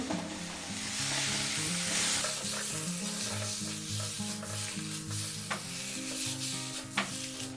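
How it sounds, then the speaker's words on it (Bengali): Six boiled eggs fry in spice masala, giving a steady, close sizzle with light stirring throughout, over soft background music. "ডিমটা এর মধ্যে দু মিনিট ভেজে নেব দু তিন মিনিট একটু মশলার সাথে"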